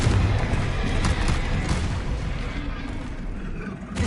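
Explosive fire spell blast from a wizarding action video game, a loud rumbling boom with sustained low-end roar that fills the clip and tails off slowly, with dense crackling texture above.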